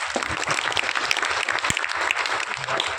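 Audience applause fills a felicitation ceremony honoring sericulture farmers: many hands clapping in dense, irregular bursts that carry on steadily throughout, with no speech over it.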